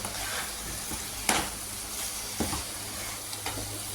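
Chicken and potato curry being stirred in a pan, a steady soft sizzle with a few scraping spoon strokes and clinks scattered throughout, close and moderately quiet with no talking.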